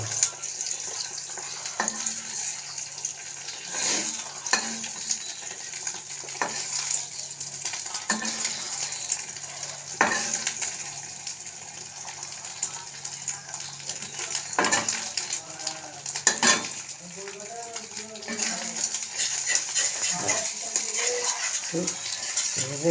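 Chow mein tossed in a heavy thick-bottomed wok with hot oil, giving repeated metallic scrapes and clatters of the utensil against the pan at irregular intervals over a steady background hiss, with occasional speech.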